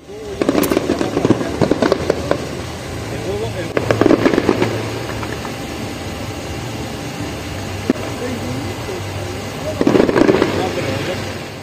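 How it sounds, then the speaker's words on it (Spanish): Fireworks at a pop concert in Monterrey burst and crackle in the distance in three loud clusters, separated by quieter stretches with a low steady hum beneath. "se alcanzaron a ver los cohetes hasta acá"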